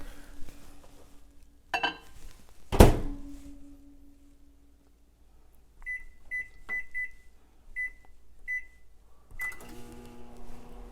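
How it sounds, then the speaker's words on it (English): A microwave oven melting chocolate chips at half power: the door thunks shut, the oven hums steadily, then a series of short high beeps sounds near the end before the door opens. "I'm going to do the microwave method"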